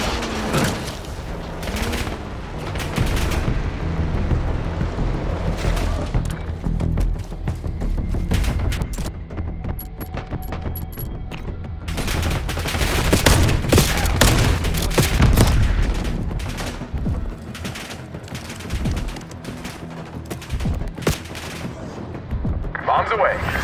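A sustained firefight in Call of Duty: Black Ops 6, with bursts of automatic weapons and heavy booms rolling on and off for over twenty seconds, loud and close, with shouted voices mixed in.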